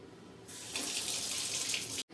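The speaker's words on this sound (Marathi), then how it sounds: "पहिला मी हे अंडे जे आहे ते धुवून घेते, वॉश करून घेते प्रॉपर" Running tap water pours into a sink as eggs are washed under it, starting softly, swelling into a steady close splashing stream, then cutting off abruptly near the end.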